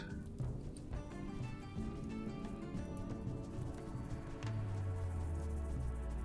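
Rain patters steadily in a RimWorld colony game, a soft continuous drizzle of drops on surfaces, with a low tone entering near the end.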